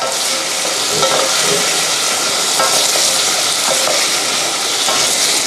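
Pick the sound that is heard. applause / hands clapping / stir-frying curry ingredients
stir-frying curry ingredients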